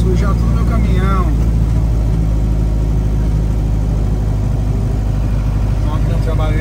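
A delivery truck rumbles along a muddy dirt road with a low, steady engine drone and some rattling, while someone talks over it now and then.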